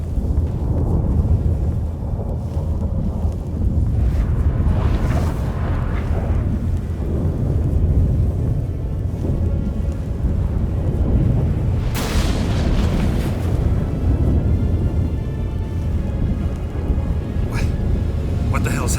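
A storm roars in The Witcher 3, a constant loud low rumble with heavy thunderous booms swelling in, while characters speak over it.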